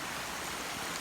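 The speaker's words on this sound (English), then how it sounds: "There's the gully, this beautiful creek, Conklin Creek." Conklin Creek flows steadily through a gully on a hiking trail near Naples, New York, after a late-summer rise in water. The rush is continuous and broadband, with no voices.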